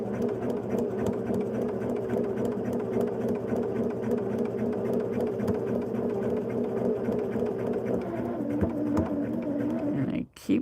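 A sewing machine runs steadily while stitching quilt blocks, a continuous close mechanical whirr with a fast even rhythm that slows and stops near the end.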